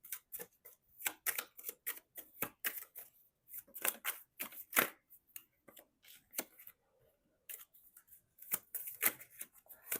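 A deck of tarot cards being shuffled by hand, a busy run of crisp riffling snaps and slaps that continues almost without pause, close and fairly quiet, with no talking.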